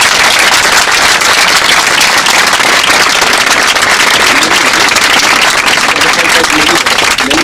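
Crowd applause at a public protest gathering, loud and continuous throughout with a sustained dense wash of clapping and some voices mixed in.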